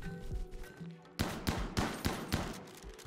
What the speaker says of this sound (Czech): Tak, střelba na krocana.